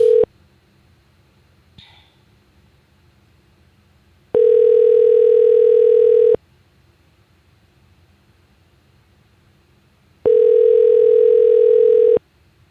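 Telephone dial tone on a call-back line, a steady loud tone sounding in two long bursts of about two seconds each, with quiet line hiss between them and a faint click near the start.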